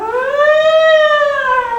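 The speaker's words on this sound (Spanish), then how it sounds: "el ruido de una sirena" A siren wails in one long rising-then-falling sweep, loud and steady with bright layered overtones, heard alone with no voices.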